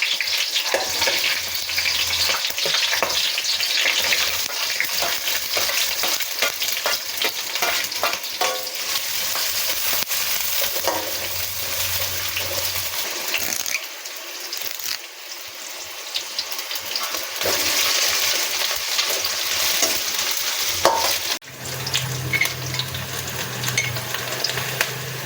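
Onion, coriander leaves, curry leaves and masala fry in a pan for a chicken curry. A loud, continuous sizzle carries on with stirring and scraping, and its intensity swells and dips at times.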